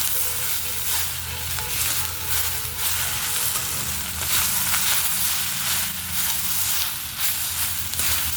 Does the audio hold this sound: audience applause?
no